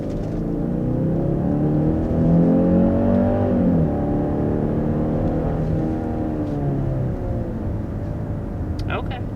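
A 2021 Genesis GV80 with the 2.5 turbo engine pulls away under acceleration, a steady engine hum rising through the gears with a shift partway, heard from inside the cabin with a steady road roar beneath.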